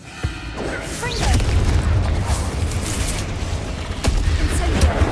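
Confringo explosive spell in Hogwarts Legacy: a sharp blast followed by a long, rumbling boom with crackling debris, then another sharp hit near the end, all loud and close.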